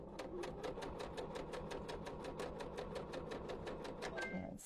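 A sewing machine stitches fabric for understitching, running at a steady, fast pace with evenly spaced mechanical needle clacks, close and clear, slowing and stopping at the end.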